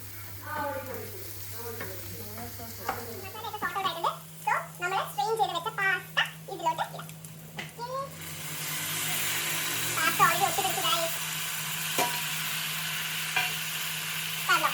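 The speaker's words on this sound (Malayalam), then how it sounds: "ഇതൊന്ന് മിക്സ് ചെയ്ത് കൊടുക്കാം" A person talks over quiet kitchen sounds, then salted pasta is stirred in a pan, giving a steady sizzle with scattered scraping clicks.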